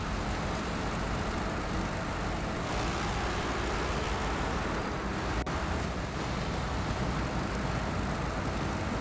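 A Jeep scout vehicle drives in the off-road game SnowRunner, its small engine making a dense, steady buzzing drone with a constant broadband roar and no pauses.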